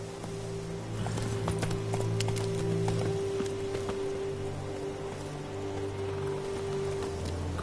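Hooves of Roach, the horse from The Witcher 3, clip-clop in a steady trot, close and clear over a hushed, rain-like backdrop and a low droning tone.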